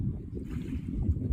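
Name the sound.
roaring, gurgling water in the village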